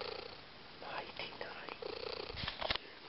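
A small cat purrs close by at bedtime, a soft rumbling vibration running steadily under a woman's quiet, low voice, ending with a brief louder rustle.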